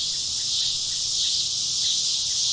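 Loud, unbroken chirping of insects in the video game Kentucky Route Zero forms a dense, shrill drone with no pauses and no speech.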